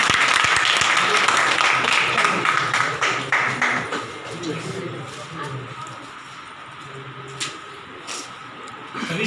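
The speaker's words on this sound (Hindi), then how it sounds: "हाथ यदि खाली हैं तो प्लीज जोरदार ताली।" An audience at the opening of an education center applauds, a loud and dense burst of clapping that gradually thins and softens amid room noise, with a few sharper claps toward the end.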